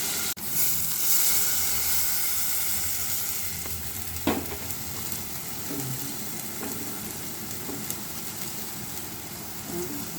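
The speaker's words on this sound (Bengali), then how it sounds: "পেঁয়াজটা বেজে নিচ্ছি।" Onions fry in a pan for a potato curry with shingi (stinging catfish), giving a loud, continuous close sizzle with occasional stirring scrapes and one sharp clink partway through.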